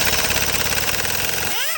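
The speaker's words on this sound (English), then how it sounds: "I got a lot of impact wrenches." A half-inch impact wrench working on the front brakes of a 2017 Chevy Tahoe, a loud, close, continuous rapid hammering rattle that winds down abruptly at the end.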